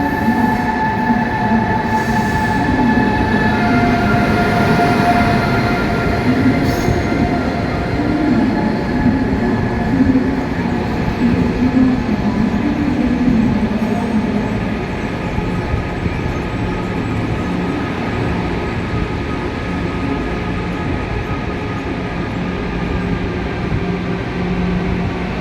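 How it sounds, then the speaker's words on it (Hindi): Steady rumbling roar of a high-speed train at a station on the Makkah to Madinah line, loud and continuous with faint wheel squeals and clatter throughout. "मक्कातुल मुकर्रमा से हमारी ट्रेन मदीना मुनव्वरा के लिए अप्रोच कर चुकी है"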